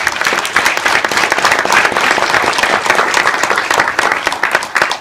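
A packed audience gives a sustained round of applause after a lecture, a thick, continuous roar of clapping hands that stays loud and even for the full five seconds with no voices on top.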